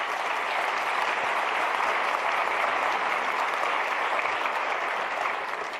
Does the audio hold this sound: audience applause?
yes